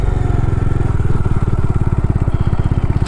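Bajaj Dominar 400 motorcycle engine pulling steadily in second gear on a cold mountain road in Himachal, a loud, close, continuous thumping drone with an even rapid pulse and no talk.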